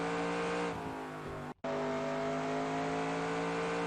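A NASCAR stock car from the NASCAR Racing 2002 game screams at full throttle around Bristol Motor Speedway, a steady, loud high-revving engine drone that cuts out for a split second before roaring straight back.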